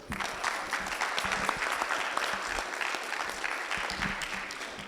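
Steady applause from a wedding audience at a shaadi reception, many hands clapping together in a continuous wash that fills the room.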